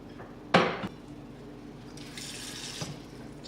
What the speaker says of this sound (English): So I just put a little tiny bit of water in here.